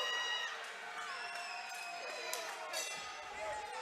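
A hometown crowd cheers and shouts at an MMA fight before the opening bell, a steady distant roar of voices with scattered whoops, under an announcer's commentary.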